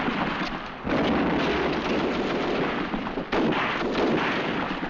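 Mortar fire in a wartime drama erupts in two heavy explosive blasts, loud and close, each a broad rumbling burst that sustains before tailing off, with no voices over it.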